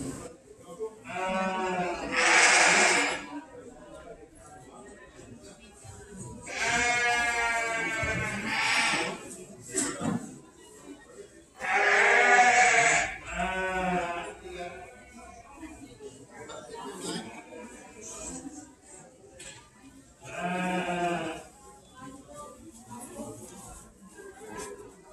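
Lambs at a lamb show bleat repeatedly in wavering calls, some near and loud and others softer, spaced out over a quiet indoor background with low murmuring.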